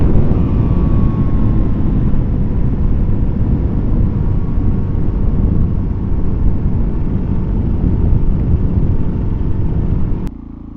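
A Suzuki DRZ400SM motorcycle engine runs steadily and loudly while riding, a continuous close rumble with wind noise that cuts off abruptly near the end.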